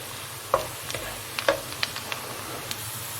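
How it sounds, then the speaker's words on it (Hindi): Onion and garlic fry in oil for a chicken and okra dish, with a soft steady sizzle behind a few light stirring clinks and taps from close by, and no voices. "प्याज और लहसुन हमारा फ्राई हो रहा है।"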